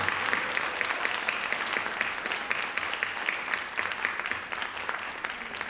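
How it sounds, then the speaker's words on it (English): Sustained applause from a seated audience fills the room for a closing round honoring graduates at a Sankofa celebration ceremony, steady and unbroken throughout. "One last round of applause for the graduates."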